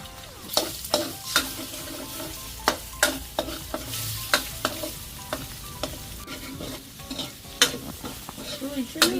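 A spatula repeatedly scraping and knocking against a pan while Thai fried rice is stirred over a soft sizzle, irregular sharp strokes close by, no talking.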